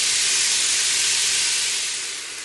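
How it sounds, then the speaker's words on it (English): Vegetables for clam chowder sweat and simmer in a pot, giving off a loud, steady hiss of steam that eases slightly at the end. "A lot of steam coming off those vegetables."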